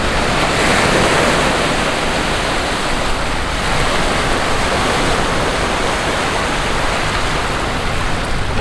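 Waves washing onto the muddy River Thames foreshore make a steady, loud broadband surf rush with no clear breaks, close to the listener and with no voices.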